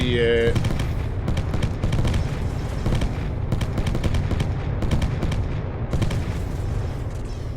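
Spaceship guns blast away in Spacebourne 2, dense rapid bursts of loud automatic fire repeating almost continuously, with sharp rattling volleys layered over a heavy rumbling backdrop.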